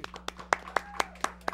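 A few people clap for Pablo at a year-end show: sparse, evenly spaced claps, roughly two to three per second, fairly faint over a low steady hum, with no one speaking.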